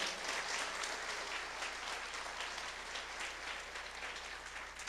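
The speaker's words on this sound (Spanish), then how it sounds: "Dale un aplauso a Dios porque estamos celebrando." A church congregation claps together in celebration, a dense, even roar of many hands that stays steady and continuous throughout, with no voice rising above it.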